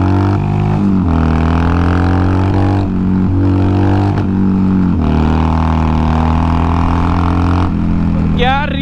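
A motorcycle, a Duke 390 or Harley-Davidson 883, revs hard during a ride, its engine note rising and falling through several loud gear-change surges, with a voice talking over it.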